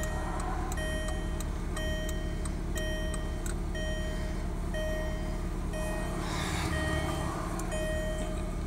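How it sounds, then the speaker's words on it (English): Hazard flashers clicking inside a 2001 VW Beetle, a steady, regular tick-tock at close range over a low cabin hum, with no talking. "Flashers."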